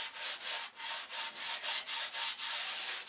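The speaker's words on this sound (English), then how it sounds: "Now we're sanding away our pen lines" Sandpaper rubbing back and forth on wood to round off an edge, about ten steady rasping strokes in a regular rhythm, close and alone.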